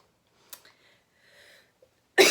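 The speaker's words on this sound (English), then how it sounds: "I'm coughing because I'm getting over a cold." A person getting over a cold gives one short cough and a few faint throat sounds in a quiet room, then a louder, harsh burst at the end, close to the mic.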